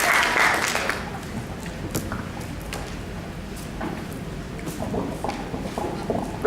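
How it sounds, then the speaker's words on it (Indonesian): An audience at an academic talk on journal publication policy applauds speaker Pak Handoyo with moderate clapping that starts fuller and then thins out toward a quieter patter. "Kita beri aplaus untuk Pak Handoyo."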